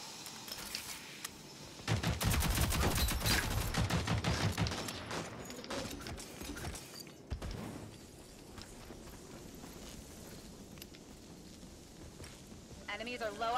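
Rapid bursts of gunfire in the Rogue Company video game, loud and dense for several seconds, then scattered shots over game voices and background effects.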